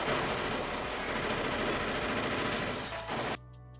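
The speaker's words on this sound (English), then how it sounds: "That sounded like glass breaking more than bullets," Gunfire sound effect with a shattering, glassy character like breaking glass, a loud dense burst of rapid crackles lasting about three seconds before cutting off abruptly.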